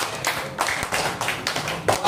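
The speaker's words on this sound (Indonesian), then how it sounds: "Tepuk tangan untuk kita semuanya." A classroom group applauds in a teacher training session, a short spell of several loose, uneven claps sounding close.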